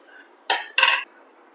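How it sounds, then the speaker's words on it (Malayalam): A knife cuts raw plantain into large chunks for sharkara varatti, giving two short, crisp chops close by in quiet surroundings. "ശർക്കര വരട്ടിക്ക് നമ്മൾ ഇത്തിരി വലിയ കഷ്ണാക്കിയിട്ട് മുറിക്കണം ഇതേ ടൈപ്പിൽ മുറിക്കുക"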